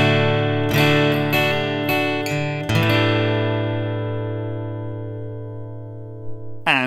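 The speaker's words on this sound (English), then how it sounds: "So now this is what this sounds like through the undersaddle pickup." A Taylor acoustic guitar played through its undersaddle piezo pickup: a run of plucked notes and strummed chords, then a long ringing chord decaying before a final strum, close and clean with no talking.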